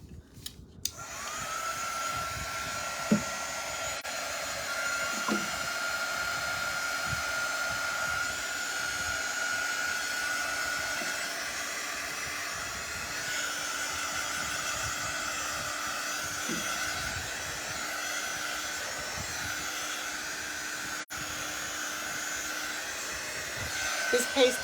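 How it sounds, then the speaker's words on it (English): A hair dryer blows steadily and close for the whole stretch, drying freshly applied craft paste, a continuous airy whoosh with a constant hum and a few faint handling clicks. "I'm just going to cap this up, and I'm going to dry it just a little bit to get it dry."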